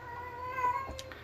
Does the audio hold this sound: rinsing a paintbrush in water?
no